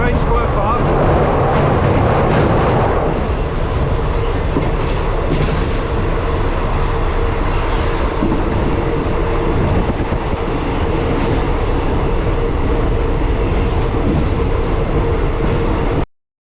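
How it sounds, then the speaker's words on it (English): Steady rumble and clatter of a fast train running south from Phitsanulok, Thailand, continuous and close, with a voice speaking briefly over it near the start. "Train's quite fast."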